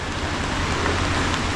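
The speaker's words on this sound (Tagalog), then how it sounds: "Ang lakas na ng ulan" Heavy rain pours down in a dense, steady hiss during a motorcycle ride toward Baguio, mixed with low rumbling engine and wind noise, with no talking.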